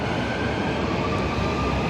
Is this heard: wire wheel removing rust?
no